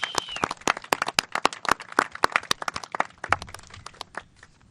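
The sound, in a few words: audience applause at Arbor Day ceremony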